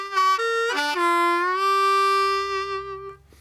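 A harmonica plays a short blues loop with note bends, a few quick reedy notes sliding down into a long held tone that fades out, heard alone without talking.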